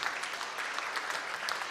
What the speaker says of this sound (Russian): Поздравляйте своими аплодисментами